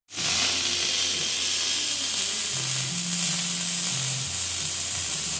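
Tack welding on a home-built fur skinning machine gives a loud, steady crackling hiss that starts abruptly and holds for several seconds, with a faint low hum underneath.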